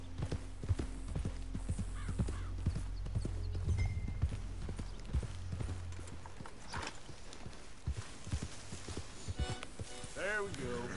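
Video game horse hooves clip-clop in a steady walking rhythm, close and clear, with occasional heavier thuds and a brief whinny toward the end.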